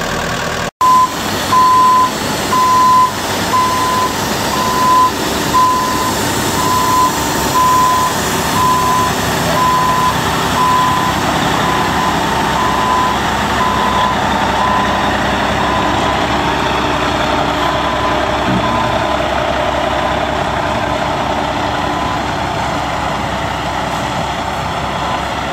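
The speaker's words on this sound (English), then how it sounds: "Letting the dozer and the truck warm up, getting all the flags off, and we'll get it unloaded." Dozer and truck engines idling steadily as they warm up, a loud heavy rumble throughout, with a repeating reversing beep pulsing over it for much of the time.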